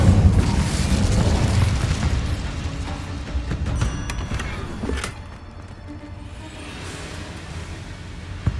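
Incendio fire-spell blast in Hogwarts Legacy on PS5, a loud booming whoosh at the start that fades into a rumbling, crackling tail with a smaller burst midway.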